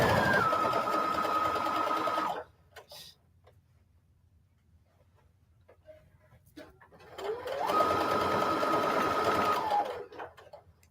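Sewing machine running rapid back stitches through denim patchwork, two fast buzzing bursts of stitching separated by a quiet pause with faint handling clicks, close and clear.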